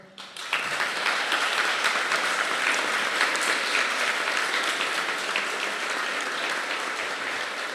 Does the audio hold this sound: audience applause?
yes